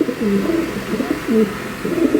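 Young racer pigeons cooing nearby, a series of loud, low, wavering coos coming in repeated phrases over a soft steady background.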